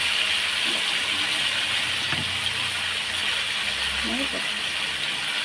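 Mutton poured into a pan of fried onions for a homemade Bengali curry, giving a steady broad hiss of sizzling that runs throughout, with faint clatters and a few brief voice fragments underneath.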